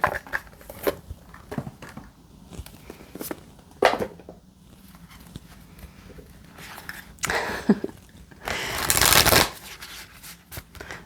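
Spirit Animal Oracle cards shuffled by hand, a run of soft riffling bursts and slaps with quiet gaps between, growing into a louder, denser riffle near the end; no talking.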